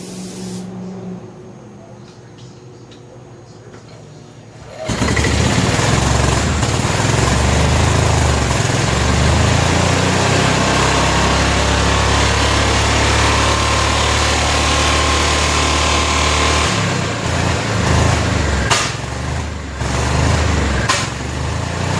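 A 1988 Club Car golf cart petrol engine, a barn find with no idle circuit, cranks to life after quiet clicking and then runs loud and rough with a steady roar for most of the stretch, with sharp pops near the end.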